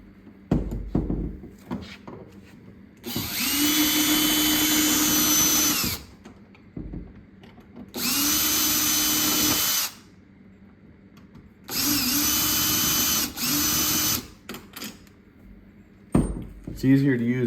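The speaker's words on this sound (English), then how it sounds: "It's easier to use a drill with a long bit on it." Power drill fitted with a long bit, boring out an old doorknob on a door; three loud sustained whining bursts of a few seconds each, separated by short pauses with faint clicks and handling noises.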